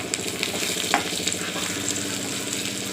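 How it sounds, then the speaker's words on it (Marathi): Onion sizzles steadily in a hot pan while cooking for a spicy ridge gourd dish, a close, continuous frying crackle with small pops and no talk. "आता याच्यामध्ये कांदा भाजलेला आहे"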